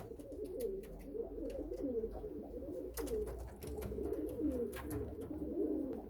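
Pigeons cooing in a loft, several soft overlapping low coos repeating throughout over a faint background hum, with scattered light clicks and rustles.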